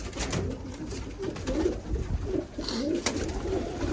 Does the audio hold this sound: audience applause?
no